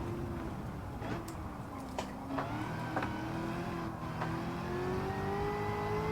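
A race car in Gran Turismo 7 revs and accelerates around a circuit with traction control set to 3, its engine whining steadily and climbing in pitch through gear changes, continuous and fairly loud.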